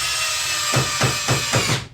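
Power drill fitted with an SDS Plus bit holder driving screws into wood, giving a whirring motor with five rapid, regular ratcheting clicks near the end, close by.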